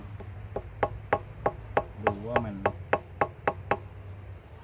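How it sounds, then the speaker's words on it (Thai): About a dozen light, evenly spaced taps with a screwdriver handle, sharp and close, while someone speaks briefly in the middle. "ผมเคาะเบาๆดูนี่ผมเอาด้ามไขควง"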